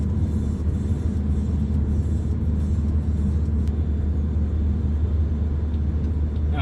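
A car driving on a highway during a road test, heard from inside as a continuous low rumble of engine and tyre noise that stays steady throughout, with no speech.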